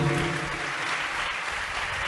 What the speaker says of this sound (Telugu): గట్టిగా చప్పట్లు కొడదాం ప్రభుకి